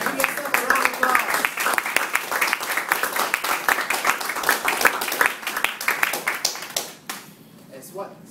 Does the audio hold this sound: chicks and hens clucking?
no